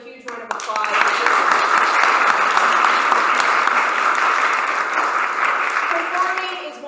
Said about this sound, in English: can we give Tyler another huge round of applause?